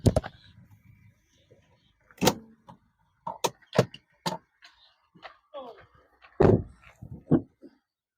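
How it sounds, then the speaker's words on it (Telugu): A car bonnet is handled on a 2017 Toyota Corolla diesel with a series of sharp metallic clicks, knocks and latch sounds, spaced apart and close by. Quiet gaps fall between the hits. "బన్నెట్ ఓపెన్ కదా"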